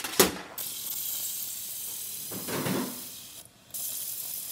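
A Breville espresso machine dispenses hot water: a sharp click and hiss open into a steady airy spray, a brief pause, then the hissing flow resumes, close and moderately loud with no talk.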